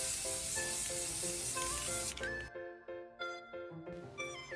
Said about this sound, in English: Using this Rust-Oleum flat spray paint to spray paint the vertical tubing